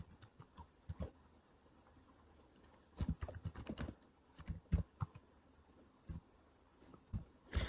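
Typing code on a computer keyboard, with a short flurry of key clicks followed by pauses and then bursts of denser typing, close and fairly quiet in a still room.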